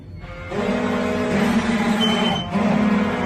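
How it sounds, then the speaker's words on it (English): Alarms blare in a horror video game, a loud sustained electronic tone with steady pitched bands that briefly dips and restarts, over a low rumbling background, no speech. "We got alarms going off."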